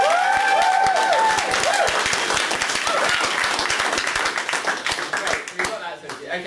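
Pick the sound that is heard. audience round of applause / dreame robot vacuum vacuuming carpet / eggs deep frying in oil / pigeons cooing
audience round of applause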